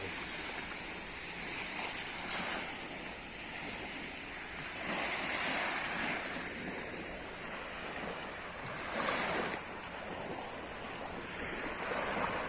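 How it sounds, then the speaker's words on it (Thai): Sea waves roll onto the beach at Hua Hin in the morning, a continuous wash of surf with periodic swells of breaking water, mixed with light wind noise and no voices. "บรรยากาศน้ำทะเล"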